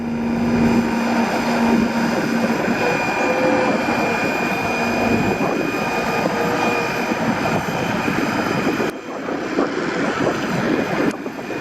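An excavator working at an earthmoving site gives off a steady, high-pitched hydraulic pump whine over a loud, continuous engine roar. The noise keeps going with little change and briefly dips near the end.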